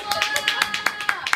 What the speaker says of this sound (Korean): 큰 박수 한번 주세요